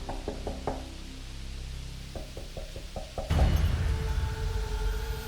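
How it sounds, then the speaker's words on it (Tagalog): A series of knocks on a bedroom door from inside a house, sharp raps in two clusters, fairly close, followed by a louder rumbling burst of noise. "May kumakatok mula sa kabilang side."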